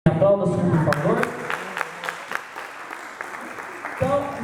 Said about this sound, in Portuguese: Aplauda o Senhor, por favor.